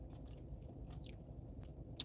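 Someone chews food close to the mic with soft, wet crunching and biting sounds and one sharper crunch near the end, all at low level.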